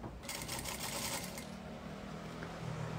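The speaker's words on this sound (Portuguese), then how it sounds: "Vou passar aqui a costura que eu vou fechar a nossa bolsinha universitária." A sewing machine stitches a seam on a small fabric bag in a fast, even mechanical rattle for about a second and a half, then stops, leaving low room noise.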